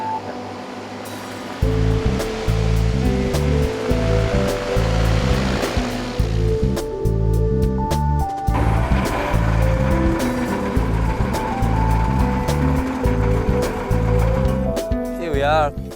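Airboat moving across the Swim Creek floodplain of the Mary River system, a loud, continuous propeller-engine roar with a pulsing, rough texture and water wash, starting after a brief quieter moment and running steadily throughout.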